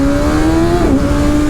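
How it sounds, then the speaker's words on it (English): A Kawasaki ZX6R sport motorcycle accelerating hard past cars, a loud, close, high-pitched engine whine holding steady then dipping slightly as it passes, with no talking. "See how powerful this bike is? Overtook those cars in nanoseconds."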